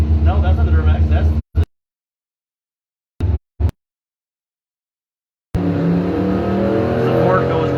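A Ford truck and a 2002 Duramax at a Thursday night drag race, engines roaring loud and close, cutting out into silence with two brief bursts, then returning as a steady rumble.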